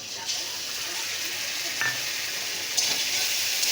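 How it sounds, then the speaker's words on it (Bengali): Onion and ginger-garlic paste fry in a pan with a steady, close sizzle and hiss, with faint scraping as the mixture is stirred, and no voices. "এটা দিয়ে একটু ভালো করে ভেজে নেব"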